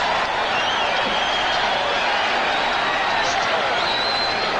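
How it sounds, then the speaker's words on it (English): A boxing arena crowd on its feet cheering Larry Holmes during his fight with Ken Norton, a loud, steady roar of voices and applause that holds without a break. "The crowd on its feet, cheering for Larry Holmes."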